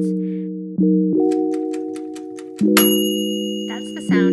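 Oven timer ding as clay cat pots finish baking, a bright sustained electronic tone repeating several times with fresh strikes, fairly loud and close, with other short chimes and clicks mixed in.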